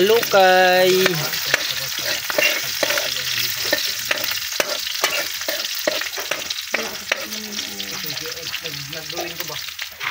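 Squid and chili are stirred in a hot frying pan, a loud close sizzle broken by repeated scraping strokes of the utensil across the pan, with no talk.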